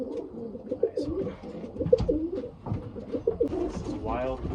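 Racing pigeons coo softly in a steady, low, rolling murmur at close range, with a voice talking over them.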